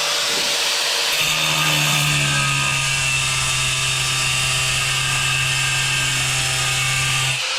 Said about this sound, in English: You just keep going round and round with the grinder.